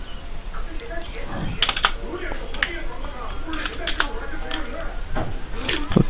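Keystrokes from typing a C program on a computer keyboard come in quick irregular bursts of clicks, fairly close and clear, with someone talking between and over them.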